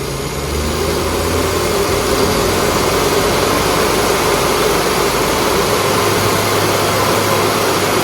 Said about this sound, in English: The engine's got a misfire as well